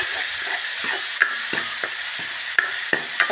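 Onion, garlic and ginger gravy cooks for green masala chhole, a continuous close sizzle and hiss of frying with scattered scrapes and clinks of a spoon stirring the pan, no talking.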